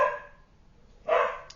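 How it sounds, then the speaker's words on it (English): Dogs barking inside a house, two short bursts a second apart, heard fairly close against quiet room tone. "Sorry about the dogs."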